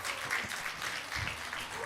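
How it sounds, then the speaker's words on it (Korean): Applause from a church congregation during a Sunday afternoon service, a soft, steady clatter of many hands heard at a distance with faint murmuring underneath. "여러분 박수 한번 크게 쳐주시기 바랍니다."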